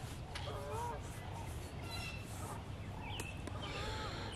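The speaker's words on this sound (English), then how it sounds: "I heard that gobbler 2 more times." A wild turkey gobbler gobbles a few times in the distance on public land, faint, high-pitched calls standing over a steady outdoor background, with other birds chirping now and then.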